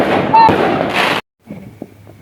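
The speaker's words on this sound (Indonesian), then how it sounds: "udah mulai banyak kembang api yang meletup-letup ya" New Year's Eve fireworks crackle and burst in a dense, loud volley from a distance at a family campsite, then cut off abruptly, leaving faint scattered pops with voices nearby.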